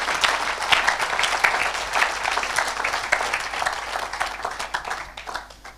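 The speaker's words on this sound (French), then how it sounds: "Acclame Jésus-Christ" A church congregation applauds in sustained, dense clapping that fills the room, loud and continuous, fading slightly toward the end.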